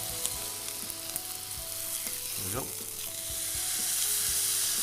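A steak sears in a hot pan, hissing and sizzling steadily up close while tongs press it down, with a few scrapes and knocks and brief spoken words over the sizzle.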